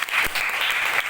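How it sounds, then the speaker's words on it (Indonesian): A classroom group applauds a student team in a steady burst of many hands clapping together, dense and continuous for about a second with no talk over it. "tepuk tangan dulu untuk kelompok 1"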